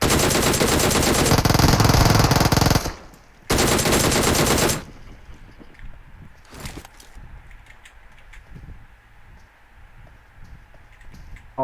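Bursts of rapid automatic gunfire from the PUBG Mobile video game, two long loud volleys followed by scattered quieter shots and game sounds.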